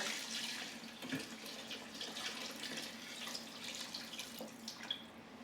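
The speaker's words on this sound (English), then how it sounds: "I'm going to pour in some water, turn the heat down to medium-low, and get some water in here" Water pouring into a pot of browned beef bones for stock, a steady splashing gush that runs unbroken, close and moderately loud, with no talk.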